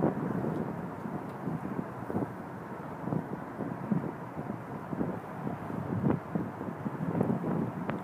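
Steady wind buffets an outdoor microphone with continuous low rumbling gusts and no voices, a fairly loud, uneven roar throughout.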